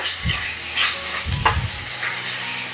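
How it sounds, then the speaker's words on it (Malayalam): A tomato mixture with fresh coriander leaves sizzling in a pan while being stirred: a few soft scraping strokes and low thumps over a steady frying hiss, close and fairly loud with no speech. "കുറച്ച് മല്ലിയിലയും കൂടെ ചേർത്തിട്ട് ഒന്ന് ഇളക്കി യോജിപ്പിക്കുക."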